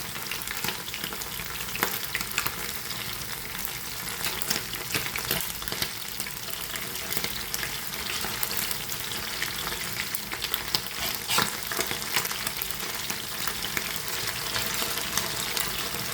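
Steady, close sizzling and crackling of fish frying in hot oil, continuous throughout with no voices.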